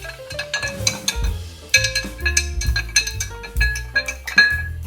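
A spoon stirs a Black Russian cocktail in a glass, producing repeated bright clinks and taps against the glass and ice in an irregular rhythm, close and clear with no talking.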